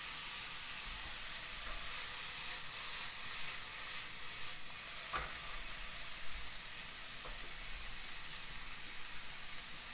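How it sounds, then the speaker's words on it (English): Apples and bacon sizzle gently in a pan as they warm, a steady moderate frying hiss with a couple of brief stirring knocks and no speech. "we just need the apples and bacon to warm up slightly"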